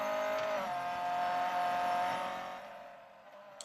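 A Mercedes A45 AMG accelerates in the racing game Real Racing 3, a smooth rising engine whine with a climbing tone that fades away near the end, no talk over it.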